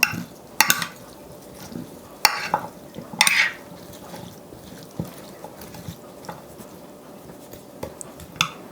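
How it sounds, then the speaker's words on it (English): Dinner ingredients tossed with seasoning in a baking dish in a homestead kitchen: scattered close rustles and light clinks, with a few sharper scrapes and knocks early on, then softer, sparser handling; no talking. "now I will toss everything coated with some seasoning"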